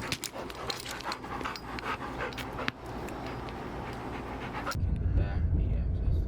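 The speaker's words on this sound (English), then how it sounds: "Hilarious dog." A dog pants rapidly and steadily close by, its quick breaths running throughout over a low, constant background rumble.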